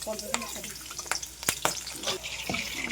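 Whole chilies fry lightly in oil for mango oil, a close sizzle broken by several sharp spatula scrapes and clicks of stirring spread across the few seconds.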